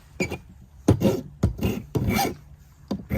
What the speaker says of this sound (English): that's just taking the burrs off it from cutting it